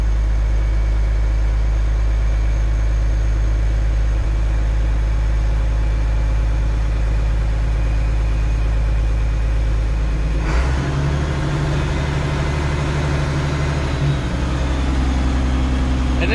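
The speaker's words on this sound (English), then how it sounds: "And this is a turbo, you can hear it spooling" An International Harvester 1086 tractor engine idles loudly and steadily with a deep low rumble, the turbo's spool whine running over it; partway through the engine note shifts lower and rougher, continuing without pause.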